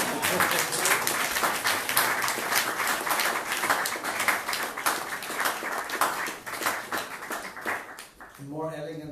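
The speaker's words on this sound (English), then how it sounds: "we have about 1 minute in which you can clap uncontrollably" A lecture audience claps at the end of a talk on a religious festival day, a lively crowd of distinct hand claps running for several seconds before fading as a voice begins speaking.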